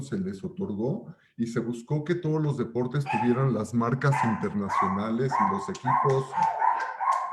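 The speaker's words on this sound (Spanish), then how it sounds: "Perdón por los perros, pero es el problema de estar fuera de las oficinas." Dogs bark and yip repeatedly outdoors beneath someone speaking Spanish. The barking is steady and fairly close, and the talking continues over it throughout.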